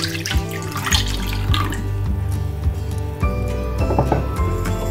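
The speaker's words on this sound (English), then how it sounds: "so now I'm going to add the milk" Milk pours in a steady, close, continuous stream into a bowl holding egg roll batter and sugar, a loud liquid gurgle lasting several seconds with no talking.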